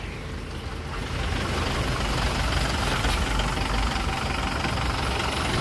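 A truck's diesel engine running steadily at idle, a low rumbling drone that grows slightly louder after the first second and then holds constant, fairly close with no voices.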